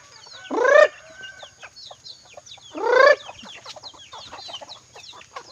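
Chickens cluck and chatter nearby, with many short soft calls and two louder, drawn-out squawks standing out.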